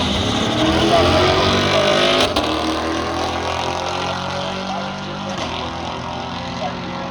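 A Camaro launches down a drag strip against a BMW, its engine roaring loudly and then fading as it pulls away, with crowd noise and a voice talking over the run.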